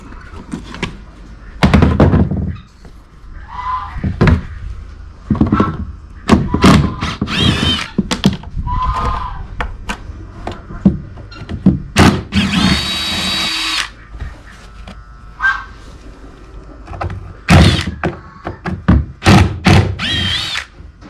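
Power drill bores out stripped fasteners in repeated loud bursts with pauses between, interspersed with clunks and thuds of tools and hardware, close by.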